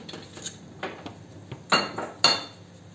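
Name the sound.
chopping garden cucumber with a knife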